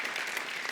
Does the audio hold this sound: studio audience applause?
yes